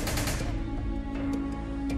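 Rapid gunfire from the video game Syrian Warfare: Return to Palmyra, with a quick burst of close, loud shots at the start and then scattered sharper reports and a ringing tone as the shooting continues.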